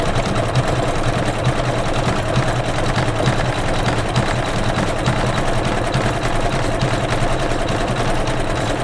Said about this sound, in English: we are doing number 10 of the embroidery file, so it's going to actually do a little bit lighter green decorative stitch